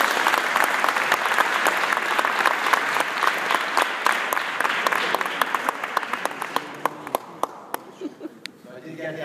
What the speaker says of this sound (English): I think we could all still give them a round of applause